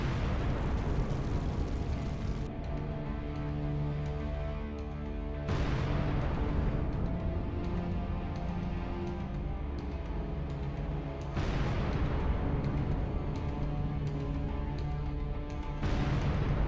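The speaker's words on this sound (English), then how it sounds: "A hit produces a very large fireworks display." Large explosions from strikes on Russian anti-aircraft missile systems boom out three times at spaced intervals, each sharp blast followed by a long rumbling decay, loud and heard alone without talk.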